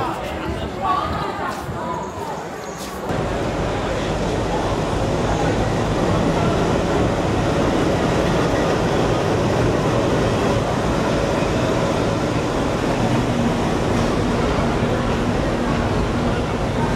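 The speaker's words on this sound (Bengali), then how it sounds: "ফাইনালি হচ্ছে আমাদের ট্রেনটা চলে আসছে" A passenger train pulls into a station platform. After a quieter opening, a loud, continuous rumble and rattle of rail cars builds and holds steady close by.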